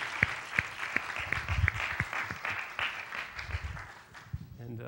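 A conference audience at a mathematics talk on moduli spaces and enumerative geometry breaks into applause, starting with a few sharp nearby claps and building into a scattered round of clapping, with some talk mixed in.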